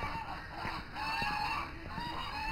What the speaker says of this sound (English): So that's my little phoenix rooster in there.